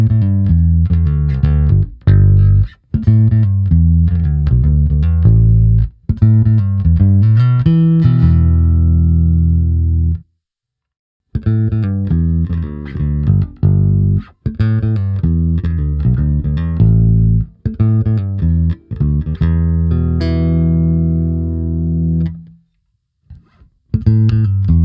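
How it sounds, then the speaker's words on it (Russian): A Markbass Yellow JB jazz bass played solo through different pickup selections, loud, clear plucked bass phrases in repeated passages with short silent gaps between sections. "давайте послушаем теперь звучание джаз-баса на различных звукоснимателях"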